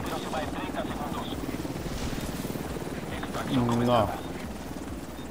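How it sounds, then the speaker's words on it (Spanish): A helicopter in the video game The Division 2 drones with a steady rotor thump throughout, while someone speaks briefly over it amid faint game effects. "El helicóptero se va en 30 segundos"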